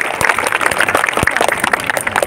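An audience at the Johar Mahotsav festival claps together, dense sharp hand claps in a lively, continuous burst, close and loud.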